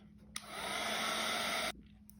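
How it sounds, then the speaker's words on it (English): A heat gun drying watercolor paint blows with a loud, steady roar that switches on abruptly, runs for over a second, then cuts off sharply. "Now I use a heat gun to dry it."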